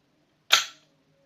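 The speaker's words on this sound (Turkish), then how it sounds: "Ah, silahımızın sesi de güzel. Yani sessiz bir silah değil." A single sharp, loud report from a Zoraki 918 blank pistol cracks out close by, decaying quickly into silence.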